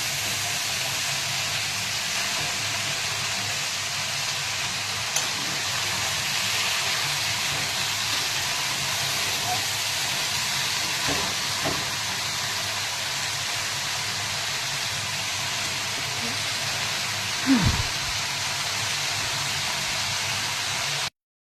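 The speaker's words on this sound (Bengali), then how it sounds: "একটু নেড়ে দিই।" Chicken and cabbage cook in a pan, with a steady, even sizzling hiss throughout and a few faint clinks from stirring.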